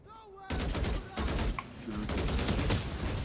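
Gunfire in the shooter game Valorant, with rapid bursts of shots rattling close and loud across the clip and a few brief voice sounds mixed in.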